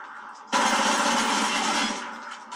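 A sudden loud burst of rapid automatic gunfire rattles for about a second and a half in the video game Modern Warfare 3, then fades, with faint background noise around it.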